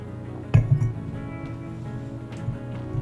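Beer cans clink together in a cheers toast over a final sip of Woodhouse Brewing IPA, one sharp tap followed by a couple of lighter knocks, close and fairly quiet.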